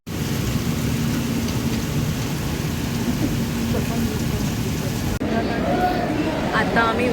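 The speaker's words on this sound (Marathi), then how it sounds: "खूप जोराचा पाऊस पडतोय." Heavy rain falls at a railway station as a loud, continuous roar of drops and splashing. Near the end the rain cuts out briefly and some faint background sounds come through.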